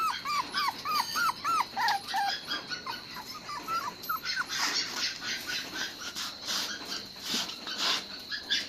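Two newly arrived puppies, one black and one gray, are shut in a metal cage. They let out a string of high, rising whimpers and yips, then fall into softer, scattered whines and rustling. The sound is fairly quiet and close.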